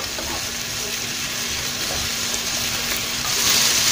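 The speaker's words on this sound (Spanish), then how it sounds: "Estoy esperando que se fría un poquito más." Egg with tomato, onion and chile frying in a pan, a steady close crackling sizzle with light stirring scrapes that swells louder near the end, with no talk.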